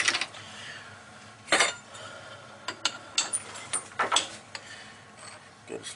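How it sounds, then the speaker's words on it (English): Metal clinks and clatters sound as a knurling tool is swapped out for a custom cutter on a lathe, with scattered sharp taps and rattles of tooling, close by and fairly quiet, with brief bits of talking between them. "get rid of the knurler and put our custom cutter back in"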